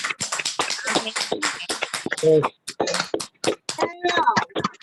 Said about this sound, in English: if everyone can give everybody a round of applause